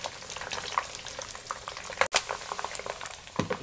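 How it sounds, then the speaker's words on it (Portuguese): Pork skin crackles and sizzles as it fries in hot oil, a steady dense hiss with scattered pops and one sharp louder crackle, close up with no talking. "está no processo de fritura a nossa pele"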